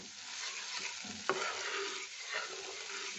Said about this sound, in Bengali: এখন আমি একটু জল দিয়ে দেবো এতে